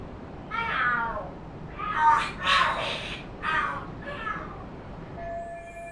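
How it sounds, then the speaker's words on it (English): Cats fight and scream in the Lost Judgment video game, with a run of shrill, wavering yowls and caterwauls in several bursts over about five seconds. The calls are loud and close, with no talk over them. "Are there cats fighting?"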